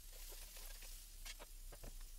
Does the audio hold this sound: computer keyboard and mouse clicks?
no